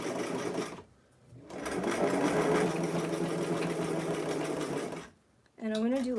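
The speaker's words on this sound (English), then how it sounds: "I'm gonna do like one back stitch down here because we don't want it coming out" A sewing machine stitching a blouse runs in two steady, buzzing stretches separated by a brief pause. A voice comes in near the end.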